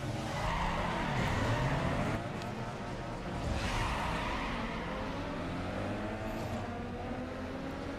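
Racing-game engines and tire skids at the start of a street race in Need for Speed Underground 2 against a Vauxhall Corsa, Focus and Corolla, a steady loud roar of revving cars with squeal throughout.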